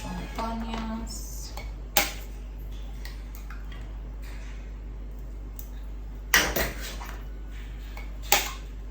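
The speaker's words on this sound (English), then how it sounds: "let me just crack the egg" Sharp cracks and taps as an egg is cracked for frying in a kitchen, three distinct clicks spaced a few seconds apart over a steady low hum, with faint clatter between.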